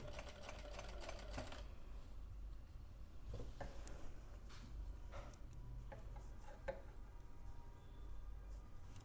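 A sewing machine stitches kurti fabric along a curve at a half-inch margin, a faint, steady ticking hum with a few soft clicks and fabric handling sounds, no voices.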